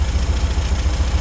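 Air-cooled VW 1600 cc engine idling after a cold start following six months of sitting, a steady close low rumble with an even pulsing beat.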